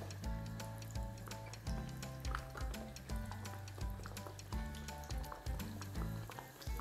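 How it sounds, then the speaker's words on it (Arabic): Breaded beef cutlets (boftek), partly frozen, sizzle steadily as they fry in hot oil, a continuous close hiss running under louder background music with a regular beat. "بعد ما البوفتيك طبعا جمد معايا شويه في الفريزر، هبتدي انزل بيه اهو في زيت سخن"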